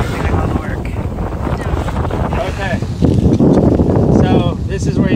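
A sailboat moves under wind while heavy gusts buffet the microphone and water rushes along the hull. The roar is loud and steady, and people talk over it.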